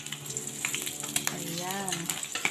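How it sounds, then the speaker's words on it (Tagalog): Smoked tamban fish (tinapa) fry in oil with a close, crackling sizzle and spatters, while a brief murmur of voice rises partway through. "Ito, piniprito ko pa yung iba guys."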